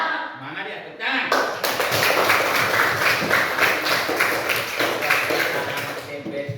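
Junior high school students in a classroom at SMP 3 Mohilir clap their hands together, starting with a sharp burst, then rapid loud rhythmic clapping that continues for several seconds before tapering off, with voices mixed in.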